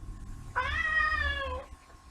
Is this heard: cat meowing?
yes